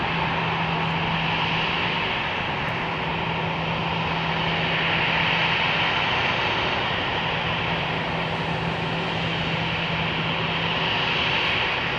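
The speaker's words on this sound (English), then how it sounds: "MD-11 action." MD-11 jet airliner at Minneapolis–Saint Paul airport, a loud continuous roaring drone that holds steady throughout with a low hum beneath, no voices.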